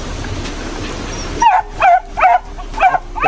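A pregnant dog barks repeatedly in short, sharp yips over steady heavy rain, about five barks in quick succession following a stretch of downpour alone.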